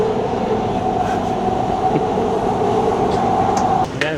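Qatari metro train running on the Gold Line, a steady loud rolling rumble with a constant hum. Faint clicks come through, and near the end the train drops off slightly as if slowing.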